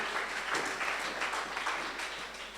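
A church congregation at an afternoon worship service bursts into steady, dense applause that fills the room at moderate loudness for a couple of seconds.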